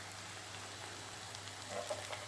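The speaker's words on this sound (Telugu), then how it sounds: "చక్కగా లో ఫ్లేమ్లో వేయించండి" Sliced onions frying over a low flame for a brinjal fry, a soft steady sizzle close by with faint occasional crackles and no voices.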